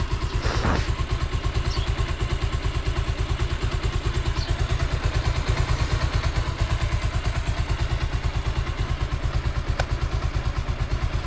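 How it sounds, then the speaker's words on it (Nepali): A motorcycle engine idles steadily nearby, a continuous rapid putter with a brief clatter near the start, no talking. "बाइक चाहिँ फुल स्टार्ट भइरहेछ"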